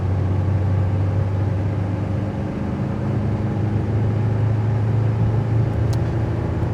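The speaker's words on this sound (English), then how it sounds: "So I'm going to just roll into the throttle here and you get a feel for how the trans shifts at full tilt and locks up" A diesel pickup truck accelerates at full throttle while towing, giving a steady, loud, continuous engine drone heard from inside the cab with no talking.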